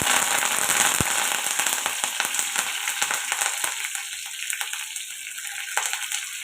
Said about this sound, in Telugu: పోపు అయితే వేగిపోతుంది కదండి